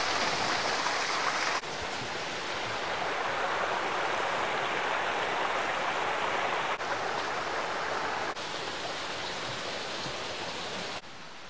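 A small stream runs beside a bridle path near Lee Abbey on the South West Coast Path, giving a steady, close rushing of water with no talking.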